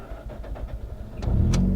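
A hot Mazda RX8 rotary engine cranks over with a few short bursts, then catches at the end and settles into a loud, low, rough running note close by.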